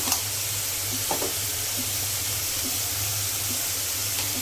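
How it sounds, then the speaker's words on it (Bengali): Spice paste for a pumpkin and prawn curry sizzling steadily in hot oil, a continuous close frying hiss with occasional soft stirring scrapes and no voices. "এবারে মশলাটা ভালোভাবে কষিয়ে নেবে কিছু সময়ের জন্য"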